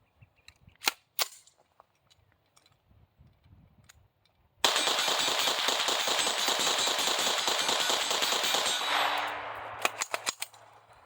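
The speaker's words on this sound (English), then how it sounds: "let's go ahead and get some rounds through it" A New Frontier Armory C5 AR pistol fires a few scattered single shots, then a fast, loud continuous string of rapid gunfire, then a handful of final sharp shots, close and with no talking.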